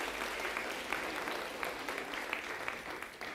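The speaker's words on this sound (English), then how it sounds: "so give yourself a round of applause" Members of a gala audience applaud themselves with steady, dense clapping throughout this short stretch, moderately loud and with no voices over it.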